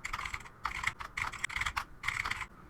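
Computer keyboard typing in bursts of quick clicking keystrokes, close and clear, with short pauses between runs of keys and no speech.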